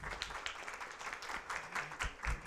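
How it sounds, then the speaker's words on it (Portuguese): An audience in a courthouse hall applauds a panel at a legal conference, with dense, even clapping that swells and fades in short surges. "Uma salva de palmas a todos novamente,"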